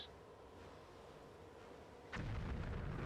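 A grenade going off in the Army Men 3D video game: after a steady low background hum, a sudden deep, rumbling blast swells up and keeps booming to the end.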